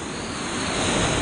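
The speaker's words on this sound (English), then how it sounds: "I'm working in this area right here, where the waves are crashing" Ocean waves crashing on a shore, a continuous loud roaring wash of surf with wind noise, steady and close throughout.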